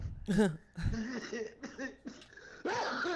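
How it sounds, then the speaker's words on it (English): Several short, harsh coughing bursts close by, spaced unevenly across a few seconds, with some laugh-like voiced sounds mixed in. "Don't cough"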